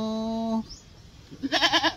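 A baby goat gives a short, wavering bleat near the end, loud and close, after a brief steady tone and a quiet gap.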